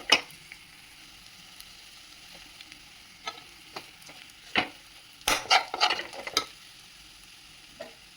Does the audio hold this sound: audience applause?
no